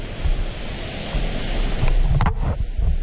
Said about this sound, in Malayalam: പൊളി വെള്ളച്ചാട്ടം,